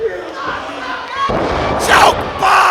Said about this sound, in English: The crowd goes unglued